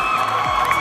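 Crowd cheering and applause at a college annual day celebration for the male sports champion, a loud, dense burst of whoops and clapping that fills the short moment.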